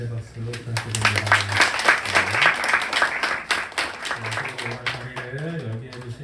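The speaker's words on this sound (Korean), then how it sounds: "귀한 말씀 전해주신 현철 목사님께 감사의 박수 부탁드립니다." Church congregation at a winter retreat in Incheon claps together in thanks to the pastor after the sermon. Steady broadband applause runs throughout, with a voice speaking over it at the start and again near the end.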